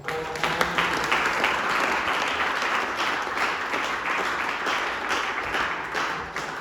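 Audience applause at a graduation ceremony for a foundation's training programme run with a university, a full, sustained round of clapping that holds steady throughout and fades slightly near the end.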